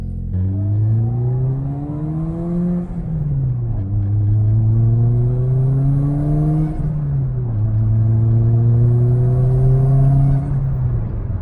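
A Toyota Corolla with about 140,000 miles drives steadily on a low tank of fuel, its engine a continuous close rumble that rises and falls with the gearshifts, with no talking.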